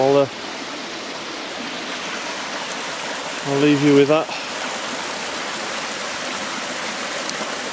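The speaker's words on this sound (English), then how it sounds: "I'll show you the waterfalls and stuff like that" Steady broadband rush of a flowing stream and waterfall at Talybont-on-Usk, continuous throughout, with someone speaking briefly at the start and again in the middle over the water.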